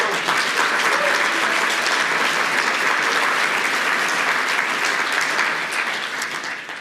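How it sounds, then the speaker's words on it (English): A large audience at a Heritage Foundation event gives a full round of applause, dense and steady clapping that gradually thins toward the end. "How about a round of applause for them?"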